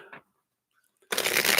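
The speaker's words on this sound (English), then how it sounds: "Let's shuffle these up." A brief soft tap, a short silence, then a loud, dense riffle of cards being shuffled close up.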